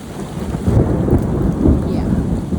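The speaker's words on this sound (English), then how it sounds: "the thunder and lightning has way increased" A thunderstorm on the flooded Appalachian Trail: heavy rain roars continuously while low thunder rumbles and swells through it, loud and close with no break.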